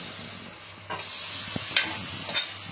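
Marinated chicken fries in a dry kadai pan without added oil, giving a steady close sizzle with a few sharper scraping stirs as the pieces are turned.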